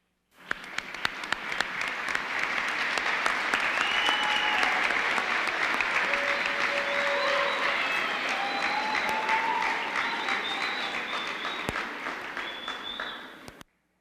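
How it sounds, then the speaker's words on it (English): Long, even applause from graduates filling a hall at a December university commencement, starting abruptly, holding loud and dense for about twelve seconds, then stopping sharply. "join me in an applause of thanks for all that they have done to get you here today"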